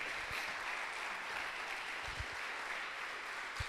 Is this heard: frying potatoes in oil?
no